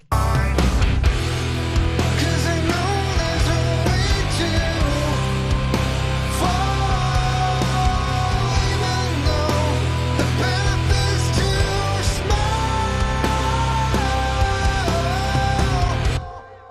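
A full music mix plays continuously with sustained string lines layered over bass and other instruments, loud and dense throughout before stopping abruptly.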